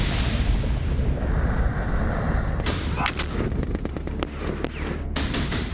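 Artillery fire during a joint Russian, Uzbek and Tajik military exercise near the Afghan border. A broad low rumble is followed by a burst of sharp, repeated booms and cracks in quick succession, some close together, over a continuous background roar.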